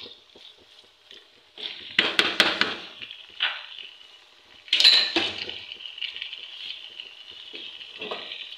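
Spiced chicken spaghetti biryani with tamarind and lemon being stirred in a pot, a spoon scraping and clinking against metal in a few bursts over a faint steady sizzle.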